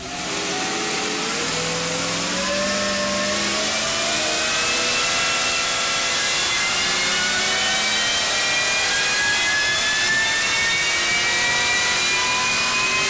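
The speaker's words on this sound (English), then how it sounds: "It's actually a 427 LS engine with a heartbeat supercharger, and I want you to watch the tensioner move as that thing goes up through the RPM range." A 427 LS engine with a supercharger revs steadily up through its RPM range, with a loud, rising whine and roar climbing in pitch for over ten seconds without talk.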